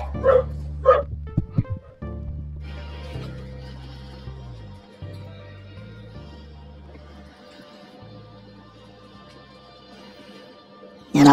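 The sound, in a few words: dog barking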